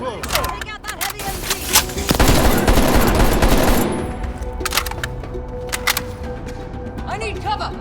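Heavy machine gun fire in Black Ops Cold War, a dense roaring burst of rapid shots that peaks mid-clip and then fades, with scattered cracks and voices talking over the battle.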